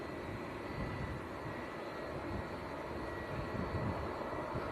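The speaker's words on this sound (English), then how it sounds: "We've got a 757 coming out as well." Boeing 757 jet departing Manchester Airport, a steady broadband engine roar held at an even level throughout, moderately distant with no voices.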